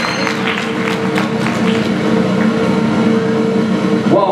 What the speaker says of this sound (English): A hand clap for Ms.